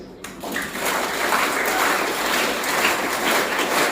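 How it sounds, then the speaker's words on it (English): Students at a school celebration clap their hands together in sustained, dense applause-like clapping that fills the room at steady loudness for several seconds. "Clap your hands."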